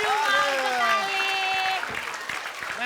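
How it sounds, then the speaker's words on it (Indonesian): A studio audience at a televised comedy show applauds in a clattering burst of claps that grows in the second half, under a prominent, melodic voice talking over it. "Oke, kita kasih tepuk tangan dulu dong."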